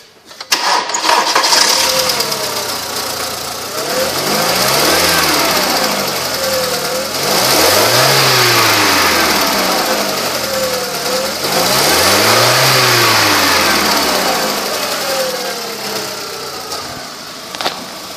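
A 2004 Volkswagen Jetta engine with about 121,000 miles runs close and loud, idling steadily between two rising and falling revs near the middle, with no talking.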